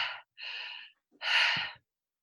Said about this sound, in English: it just goes into the cyclical deep breathing